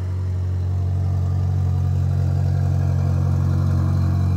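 Up close, a crash-damaged car idles loudly through its broken exhaust, giving a steady low drone for several seconds with no talking.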